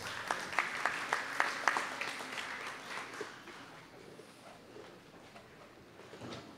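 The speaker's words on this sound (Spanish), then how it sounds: "el aplauso para ella" Applause from a small group at a neighborhood prize raffle in Miraflores, starting with several distinct loud claps and tapering into softer, scattered clapping that fades.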